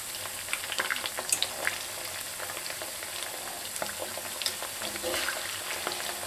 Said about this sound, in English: I am using a metal spatula in my cast iron pan